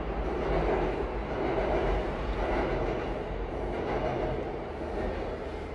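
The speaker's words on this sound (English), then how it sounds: "My god, another train?" A train passes close by and heard from inside a car, giving a continuous loud, broadband rumble with a faint rhythmic clatter that holds for several seconds and fades slightly toward the end.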